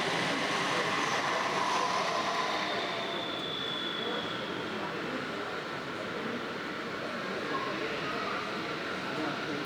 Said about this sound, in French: plusieurs navettes circulent en va-et-vient